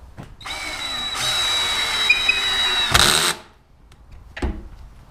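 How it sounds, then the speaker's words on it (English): A drill drives a pocket screw into a wooden shelf of a wall-hung coat rack, a loud whining spin of a few seconds rising to a brief strained burst, followed by quieter clunks. "when that pocket screw begins to go through and catch into this upper shelf"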